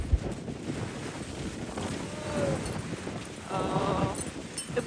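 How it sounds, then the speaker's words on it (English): Steady wind buffeting a microphone outdoors on a hillside, a continuous low rumble with gusts swelling near the middle and end, with faint background sounds underneath and no talking. "the wind's never good for filming"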